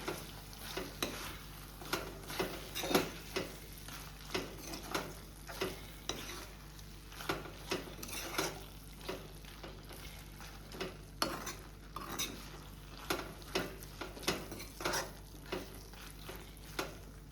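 Goan-style chilli prawns in sauce are stirred in a hot pan, with a steady sizzle underneath and regular, distinct scrapes and clinks of the spoon repeating about every second.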